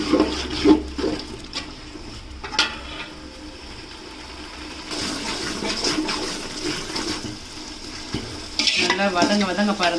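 Spiced masala frying in oil in a pan for Salem-style chicken biryani, with steady sizzling and spoon scraping and stirring, close up and without speech.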